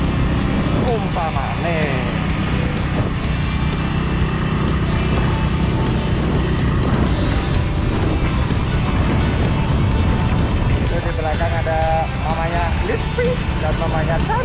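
A Honda Win motorcycle riding at speed gives a steady, loud engine drone with rushing wind noise throughout, while someone talks over it.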